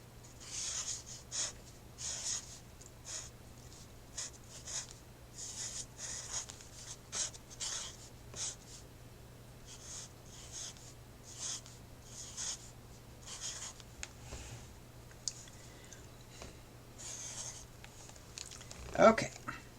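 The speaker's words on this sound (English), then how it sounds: "I'm going to ink in some words right here" A pen inking words on paper, soft repeated scratchy strokes in short bursts, faint and close.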